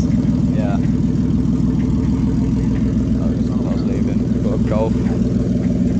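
A car engine idles and revs at a car meet, a steady low rumble throughout with voices talking nearby over it.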